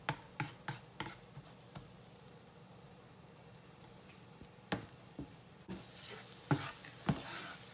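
Garlic fries in butter over medium heat before shrimp are added, a quiet low sizzle punctuated by scattered sharp spatula knocks and scrapes against the pan, faint and close, with no talking.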